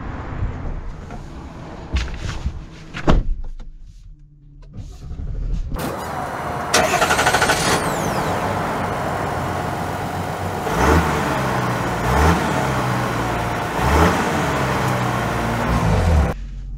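A 2023 GMC Sierra 1500 Denali with the Duramax diesel cranks and fires up after a few quiet clicks and thumps, then settles into a steady, loud, close diesel rumble with slight swells in revs.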